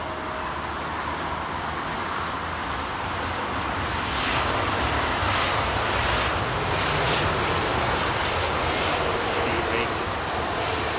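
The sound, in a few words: Scandinavian Airlines aircraft at Heathrow Airport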